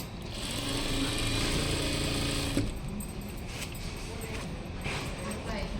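Sewing machine running steadily while stitching side stitches along the edge of a saree fall, a continuous whirring run for about two seconds, then stopping, with someone talking over it and afterward.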